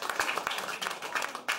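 Applause from a theatre audience for a performer coming on stage, a busy but light patter of many hands clapping at a middle distance, moderately quiet and steady with a louder burst near the end.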